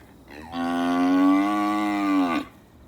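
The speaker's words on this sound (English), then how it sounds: "It was a very loud and sleepless night for these lot." A single long, loud moo from a weaned calf, drawn out for about two seconds with a rich, steady tone, close by.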